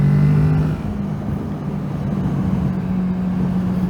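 A Kawasaki Z650 motorcycle engine drones at steady throttle under strong wind rush, a low sustained hum holding level for a few seconds while riding in an 80 zone.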